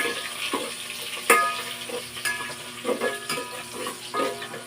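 Garlic and onion sautéing in a pan for a mung bean dish: a steady soft sizzle broken by sharp clinks and scrapes of a utensil stirring against the pot, close and moderately quiet.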